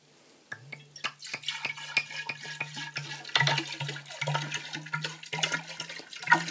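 Young red wine pours from a bottle into a large glass decanter, a steady liquid stream with splashing and glugging that rises and falls over several seconds, close and fairly loud with no talking.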